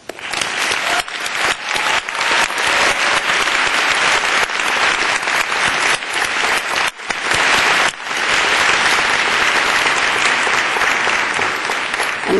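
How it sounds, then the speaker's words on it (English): Loud, sustained applause from a large audience at a 2011 graduate school commencement ceremony, thick continuous clapping that swells and briefly dips before carrying on. "and you deserve our applause."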